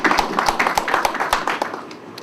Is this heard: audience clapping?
yes